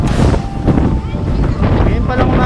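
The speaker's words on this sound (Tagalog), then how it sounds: "Lakas ng hangin dito, nakakalabot." Strong typhoon wind from Typhoon Rolly buffets the microphone at an outdoor fishing spot, a loud, rough rush that rises and falls in gusts.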